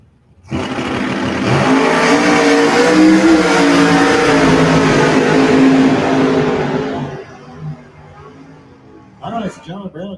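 A 1968 Chevy Camaro and a 1968 Firebird launch in a drag race, with a loud engine roar swelling quickly and holding for several seconds before fading. A voice speaks briefly near the end.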